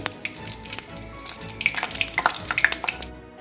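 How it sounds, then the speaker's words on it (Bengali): Whole white cumin seeds with bay leaf fry in hot oil, a close crackling sizzle with sharp pops that grow busier toward the end before cutting off. "সাদা জিরে যেটা রেখেছিলাম দিয়ে দিলাম। এটাকে একটু ভাজতে হবে, একটু ভেজে নিতে হবে।"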